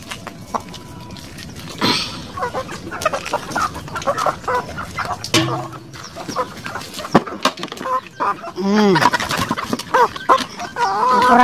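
Pet chickens, ducks and turkeys on a farm, with clucking and squawking calls scattered throughout, some close and sharp, over rustling background noise and an occasional faint voice.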